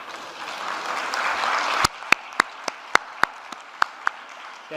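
Applause from a medical conference audience thanking the organizers swells steadily for about two seconds, then thins into a handful of loud, separate claps spaced apart as it dies away.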